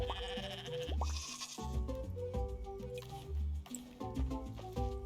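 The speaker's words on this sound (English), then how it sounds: "We have a couple of goats in here" Goats with fleas bleat repeatedly at close range, their wavering cries rising and falling one after another.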